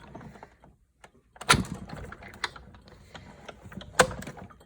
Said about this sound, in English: depending on your particular die cut machine, you may have to go over it multiple times to cut through both layers of the cardstock